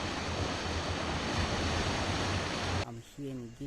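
Sea waves wash ashore at a beach in Girne, Cyprus, a dense, steady roar of surf that breaks off near the end into quieter sounds.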